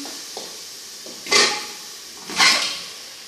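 Tuscan sausage hits a hot pan that already holds beef heart, setting off two loud bursts of sizzling hiss after a few faint clinks.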